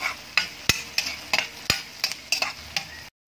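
Garlic and red onion go into a pan for a Filipino sinigang-style sauté, giving a steady sizzle broken by a series of sharp clicks and scrapes from stirring, close and fairly loud, with no talking.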